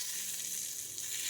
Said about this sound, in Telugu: ఇలా ఒక కడాయిలోకి ఆయిల్ వేసుకొని 2 లేదా 3 ఎండుమిరపకాయలు, పసుపు, కారం పొడి, సో ఇదంతా వేసుకొని ఈ తాలింపు దీంట్లోకి వేసుకుంటున్నాను